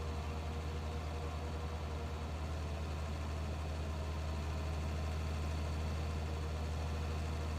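A tractor engine in the Farming Simulator 19 video game idles with a steady, deep low rumble, constant and alone throughout.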